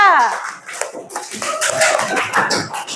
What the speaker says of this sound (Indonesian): Oke, kita beri tepuk tangan buat kelompok 3.